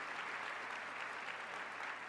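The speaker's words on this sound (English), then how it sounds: "A round of applause for Kelly," Audience applause at the COABE 2024 general session, a dense, steady wash of many hands clapping at even loudness throughout.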